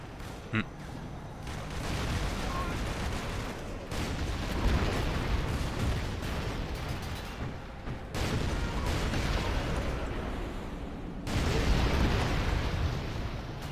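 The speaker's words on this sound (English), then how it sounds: "When you hear an explosion, you can tell that something big just detonated." Heavy explosions boom as a base is bombarded in the Command & Conquer video game, with deep, rumbling blasts and debris crashing in repeated loud waves. Talk runs faintly beneath them.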